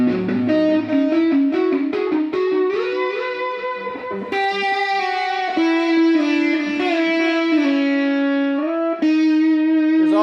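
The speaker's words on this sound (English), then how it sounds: "So you've been hearing the reverb effect already, but you can also add a delay." Distorted electric guitar notes and chords ring out through an amp with a delay effect, each one trailing into repeating echoes that smear together over ten seconds.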